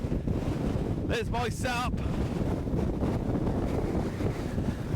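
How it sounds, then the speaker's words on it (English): Strong gusting wind roars loudly and continuously against the microphone on an exposed hillside overlooking the Tees Valley beside a Hilleberg Soulo tent in 50 mph winds; a voice speaks briefly through the rumble. "And that wind's strong."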